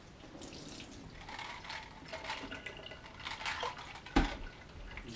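Soft running water as marbles are rinsed for dry hopping homebrew, a gentle faucet stream with small splashes and one brief clunk near the end, quiet and without talk.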